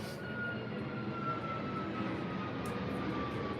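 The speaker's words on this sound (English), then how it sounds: "There's another plane" An airplane passes overhead, a steady, broad engine rumble that stays fairly constant and moderately distant, with no talking over it.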